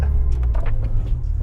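Power window on a 530 whp Toyota Supra MK5 opening with a brief electric whir over the steady low rumble of the idling engine inside the car.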